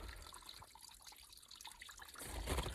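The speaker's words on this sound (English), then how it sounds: "And you see that pipe that's trickling out water." Water trickles from a hillside pipe into a water hole, a steady soft outdoor flow with a slightly louder splash near the end.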